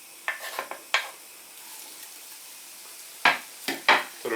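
Onions dropped into a little oil in a frying pan for a sauce hiss in short, sharp bursts of sizzle, with a quiet low crackle in between and another cluster of louder spits near the end.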